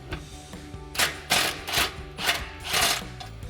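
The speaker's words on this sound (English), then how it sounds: "So we'll take that 16mm socket to remove our first bolt." A 16mm socket wrench works a bolt loose on a Jeep Gladiator JT's aluminum front bumper, making a run of sharp ratcheting bursts in quick, uneven strokes, close by and without speech.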